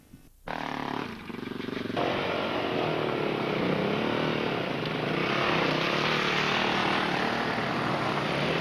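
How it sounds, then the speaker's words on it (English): A Yamaha XTZ motorcycle at the 1998 Cambrian Rally roars in loudly after a brief quiet start, its engine noise building and holding steady as it rides past close by. "One of the big machines coming through, a Yamaha XTZ"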